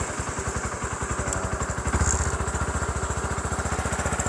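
A classic motorcycle engine running at a steady idle, close and fairly loud, with an even rapid low thumping pulse and a mild rise in the middle.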